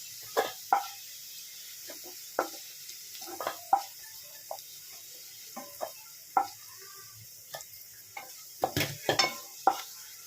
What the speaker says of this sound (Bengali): দেখো বন্ধুরা, আলুগুলো ভাজা হয়ে গেছে, এবার আমি আলুগুলোকে সব তুলে নিচ্ছি